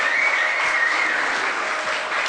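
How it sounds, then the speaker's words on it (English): Wedding guests applaud a couple's grand entrance with a sustained burst of clapping over a faint held musical tone, steady and fairly close throughout. "Give them a round of applause"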